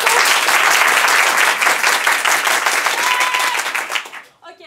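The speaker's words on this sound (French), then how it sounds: "applaudis maintenant." An improv show audience claps loudly in a sustained, even burst that thins and fades out near the end, giving way to near quiet.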